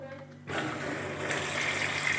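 A Zanussi washing machine starts filling with warm water after start is pressed, set to the lowest water level. A quiet hum gives way to a sudden steady rush of incoming water that stays constant and close.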